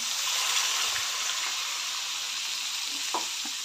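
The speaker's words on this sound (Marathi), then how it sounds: "मिक्सरच्या भांड्यात पाणी घालून मी यामध्ये घालते" Water swirled in a mixer jar with leftover ground masala is poured into a hot pan of stuffed capsicum, giving a continuous bright hiss and sizzle with a few soft knocks near the end.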